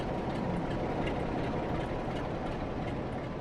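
A train in Train Sim World 6 rolls steadily along the track, a dense, continuous rumbling drone with faint rail clatter, fairly loud and heard without talk.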